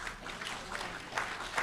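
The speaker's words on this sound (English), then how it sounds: "So clapping's okay." Audience clapping during a mayor's state of the city address; faint, distant, steady applause from a hall full of people, heard alone without speech.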